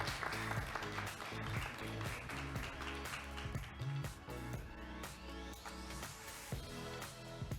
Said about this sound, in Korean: 여러분 힘찬 박수로 맞이해 주십시오